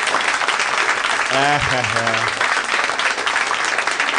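Audience applause from a live comedy podcast crowd fills the whole stretch as a steady, loud wash of clapping, with a brief vocal exclamation near the start.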